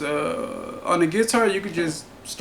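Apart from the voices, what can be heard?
No everyday noise stands out behind the speech.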